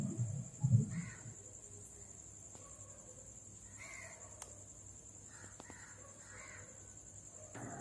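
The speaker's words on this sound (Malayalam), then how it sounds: "നമ്മുടെ കാക്കച്ചിയമ്മക്ക് അപ്പുറത്ത് ഇങ്ങനെ കാ കാ എന്നൊക്കെ പറഞ്ഞിട്ട് കരയുന്നുണ്ട് കേട്ടോ" A crow caws a few times from a short distance, the calls spaced out over steady cricket and insect hum in a quiet domestic outdoor setting, with a brief louder thump near the start.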